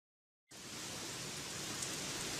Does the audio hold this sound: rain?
yes